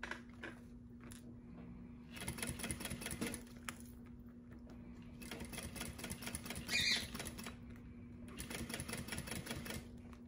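A sewing machine stitching a crossbody bag in short bursts, a rapid mechanical needle chatter starting and stopping three times between quieter pauses, heard up close.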